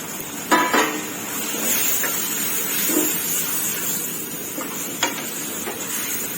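Squid sizzles in a hot pan with tree basil leaves as it is stir-fried, a soft steady hiss broken by a few sharp clinks and scrapes of a utensil against the pan.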